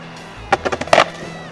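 An Atom B10 electric skateboard rolls close by, giving a rapid series of rattling clacks as it brakes to a stop over about a second, then the rolling noise drops away.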